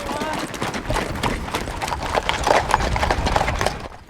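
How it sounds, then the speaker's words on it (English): Hooves beat in a quick, dense rhythm as horses move at a faster gait, loud and close with a woody knocking texture, fading at the end. "Back on the move, the horses pick up the pace"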